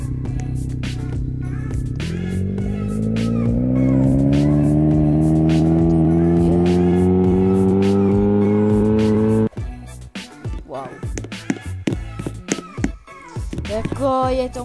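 A car engine in the Roblox game Brookhaven revs steadily upward in pitch for several seconds, loud and close, then stops abruptly. Choppy clicks and short game noises follow.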